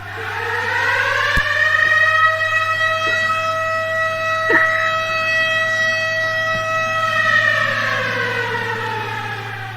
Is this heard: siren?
yes